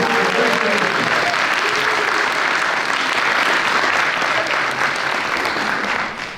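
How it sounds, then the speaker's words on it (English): Full, sustained audience applause at a brass concert featuring a 30-piece brass choir, a thick wash of many hands clapping at even loudness throughout, fading slightly at the very end. "give them a round of applause."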